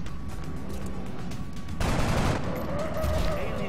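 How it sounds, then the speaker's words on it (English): An assault rifle shot in XCOM: Long War lands midway as a sudden loud crack and burst that rises above a steady, busy background of game ambience. "we still want to make that shot with an assault rifle"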